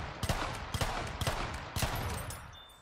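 Heavy shotgun blasts in Battlefield 1 on the Argonne Forest map, four or five loud booming shots spaced unevenly, with faint battle noise between them.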